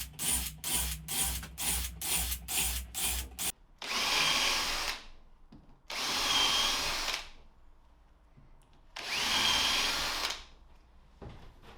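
A power drill drilling holes in wood runs in a quick series of short bursts, then three longer, louder whirring runs separated by pauses, close by with no talking.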